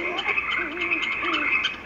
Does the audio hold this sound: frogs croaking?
yes